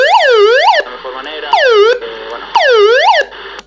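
Alarm tone from the SOS mode of a 7-in-1 emergency outdoor light: three loud, close bursts of rising-and-falling whooping siren, each about 0.8 seconds long, separated by short gaps filled with faint background noise.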